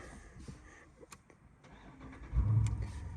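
A 2020 Dodge Challenger Scat Pack muscle car engine cranks briefly, then catches and fires up with a loud, deep rumble that settles into a throaty idle.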